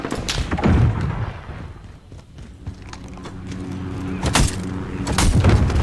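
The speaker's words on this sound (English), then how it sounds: "Kaboom! RPG-7 on them." RPG-7 rocket explosions in a hectic 10-versus-10 team deathmatch video game, heavy booming thuds near the start, in the middle and again toward the end over a busy backdrop of gunfire and battle noise.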